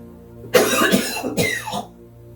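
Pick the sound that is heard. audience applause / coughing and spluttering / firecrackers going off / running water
coughing and spluttering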